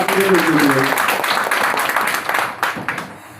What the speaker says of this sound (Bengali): আমি ওনাদেরকে করতালির মাধ্যমে সবাইকে উৎসাহিত করে ওনাদেরকে